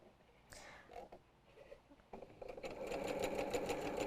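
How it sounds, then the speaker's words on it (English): A sewing machine stitching a quarter-inch seam through quilt fabric, starting with a few short bursts and handling noises, then settling into a steady fast whirring run. "Not forcing it through, letting the machine feed the fabric."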